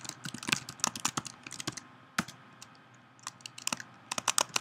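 Typing on a computer keyboard while setting up a new entry in the Torque 2D engine, with bursts of sharp, close key clicks separated by short pauses and no talk.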